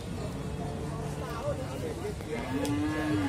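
Cows, including a heifer, at the Muntilan livestock market in Magelang, where one low moo rises near the end over a steady murmur of crowd noise and voices.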